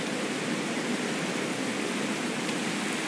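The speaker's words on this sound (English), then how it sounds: "So, this is basically the waterfall that we were looking for, I suppose." Waterfall near Kellownee Lake in the classic video game XIII, a steady, even hiss of rushing water filling the whole moment with no talk over it.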